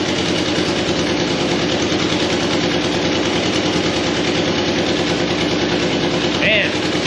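A 1985 Nissan 720 4x4 pickup engine runs rough and misfiring, a loud, close, rapid uneven chugging that continues steadily, with a brief faint noise near the end.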